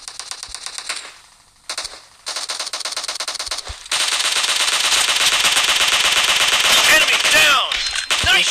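Rapid automatic gunfire bursts from the mobile battle royale game PUBG Mobile, loud and continuous, with short pauses early on and heavier sustained shooting later, layered with game effects.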